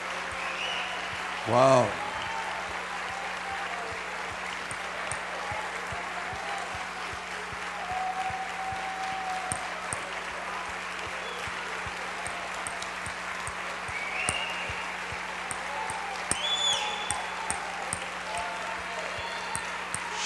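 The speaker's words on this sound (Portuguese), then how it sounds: "Só os fiéis têm capacidade de aplaudir uma palavra dessas." A church congregation applauds during a Wednesday service, making a long, even wash of clapping at moderate distance, with a short spoken exclamation near the start.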